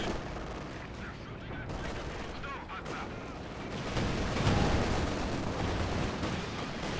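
Dense, continuous automatic fire from a .50 cal machine gun in Company of Heroes 2 sits inside a thick, rumbling wash of battle noise that swells toward the end, with muffled voices under it.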